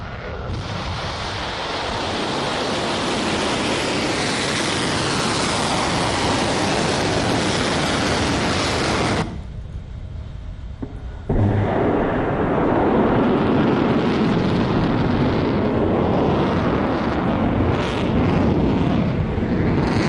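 A loud, sustained roaring rush of a missile launch from Iran toward Israel, broad and continuous, briefly cutting out midway before the roar resumes.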